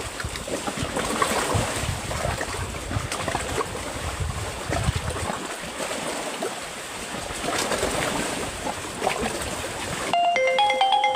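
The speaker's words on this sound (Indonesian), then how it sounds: "masuk lagi telepon" Mobile phone ringtone on a fishing boat, a short melodic tone that starts near the end and rises above steady wind, water and engine noise.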